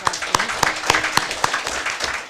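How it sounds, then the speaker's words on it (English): Scattered, uneven claps from a modest group at a central bank press briefing, a handful of sharp hand strikes standing out over a light background murmur. "Let's give him a round of applause"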